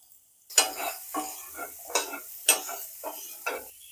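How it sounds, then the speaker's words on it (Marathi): Spices stirred into a frying matar kachori filling of peas in a pan, with a spoon scraping in about seven distinct rhythmic strokes over a soft sizzle, close and clear with no talking. "संपूर्ण मसाले आता आपण याच्या बरोबर मिक्स करून घेऊया।"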